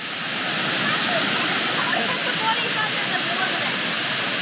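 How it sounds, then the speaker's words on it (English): Murray Falls waterfall roaring steadily at close range from a top viewing platform, a dense, constant rush of falling water with no break in its loudness. "get you a little bit closer to the waterfall itself"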